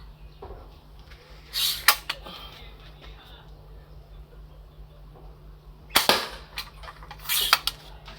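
A slingshot shooting at a target 12 metres away, two pairs of sharp snapping releases with quick cracks, separated by several seconds of quiet background hum.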